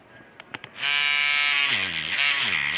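Hummingbird rotary tattoo machine with a roughly 3.5 mm stroke buzzing steadily after a few small clicks, a close, loud electric whir whose pitch dips and wavers as the motor bogs under load.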